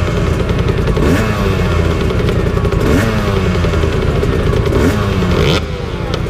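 A 125cc two-stroke motorcycle, an Aprilia RS 125 with a loud exhaust missing its rockwool packing, revs hard through repeated rising and falling sweeps, close and loud throughout with no talk.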